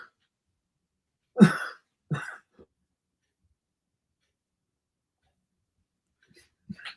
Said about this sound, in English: That is my beloved coughing in the background.